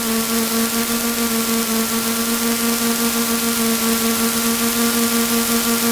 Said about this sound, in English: Pre-takeoff idle, taxi 600